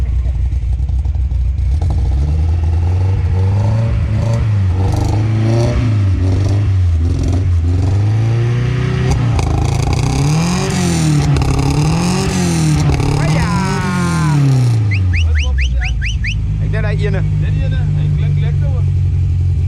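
A car with a full free-flow exhaust system revs hard and loud, its engine note rising and falling in repeated sweeps close by, with people talking over it.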